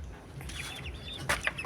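A chicken clucks softly in a yard, a couple of short faint calls close by over low background noise.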